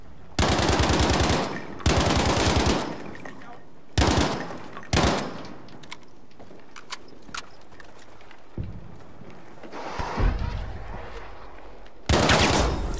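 Heavy automatic gunfire from the Battlefield V video game rips out in loud, close bursts, then drops to scattered shots and clatter before another burst near the end.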